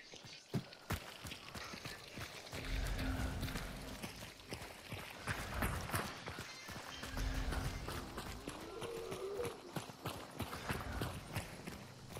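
Horse hooves pound in a rhythmic gallop in the video game Hunt: Showdown, rising in two strong bursts of clip-clop amid rustling game ambience, with a low tone in the mix.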